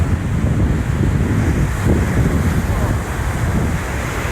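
Ocean waves crash and splash loudly on the rocky Maine shore, a continuous roaring surf with heavy wind buffeting the microphone and no clear gaps.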